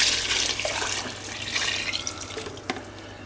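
Stock pours steadily into a pot of softened leeks, a close splashing gush that trickles and thins toward the end.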